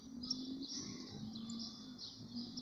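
A silver canary chirps in short, high, bright tweets at moderate distance over a faint steady background hum.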